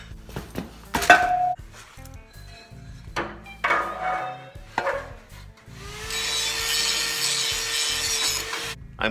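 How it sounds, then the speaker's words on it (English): Paint being stripped off metal ahead of welding, during the build of a homemade dust collector blower from a Billygoat debris loader: scattered scraping and rubbing strokes, then a steady loud abrasive grinding rush that fills the second half, close by. "I'm cleaning up the spots where I'm gonna weld. I'm taking the paint off."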